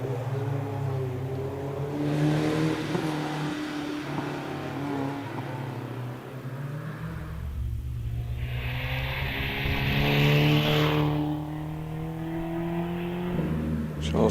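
A 2-litre Renault Clio rally car at a night hillclimb approaches the start line, its engine a steady rumble under crowd ambience that swells to a louder rev near the end, with a high whine rising in the middle.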